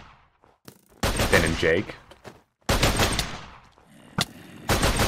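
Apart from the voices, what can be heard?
gunshots in modded Minecraft, from a video game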